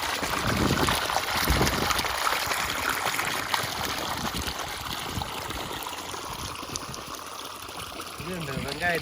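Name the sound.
irrigation water flowing through channel into onion field bed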